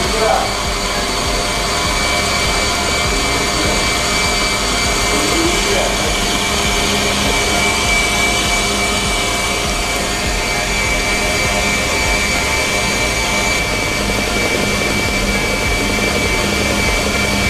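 Electric mixer whipping egg whites with icing sugar and cream of tartar toward soft peaks: a loud, steady whirring drone, unbroken throughout, close to the microphone with no voices.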